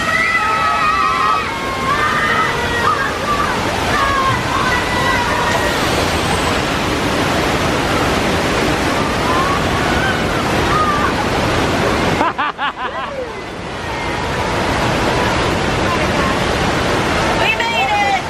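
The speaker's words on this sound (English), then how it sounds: "The water main just broke!" A simulated water main break floods the set on the Universal Studios Hollywood earthquake ride, with loud, steady rushing and sloshing water. Crowd voices and talk sit under it, and a brief mechanical rumble breaks in near the end.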